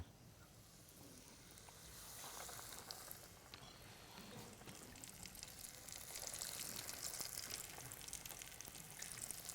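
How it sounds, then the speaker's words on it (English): Food deep frying in very hot oil gives a steady, faint hiss and crackling sizzle that swells slightly partway through and continues without a break, with no voices. "it has to be deep fried"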